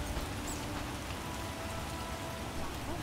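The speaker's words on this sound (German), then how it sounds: "Was für ein Wolkenbruch." Heavy rain pouring down in the video game The Witcher, a dense steady hiss of rainfall that stays constant and fills the whole scene without any voices.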